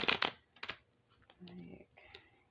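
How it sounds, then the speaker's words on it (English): A deck of chakra affirmation cards is shuffled in a quiet room: a brief papery riffle, a few soft taps and slides of the cards, and some low, faint sounds between them. "So, just going to shuffle this one."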